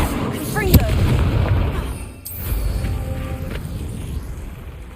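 Confringo explosive spell in Hogwarts Legacy goes off with a sharp magical blast and a booming burst, followed by rumbling and creaking debris, then a second crack a moment later.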